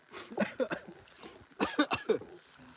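Two clusters of harsh, repeated coughing close by, each a quick run of several coughs with a brief pause between them.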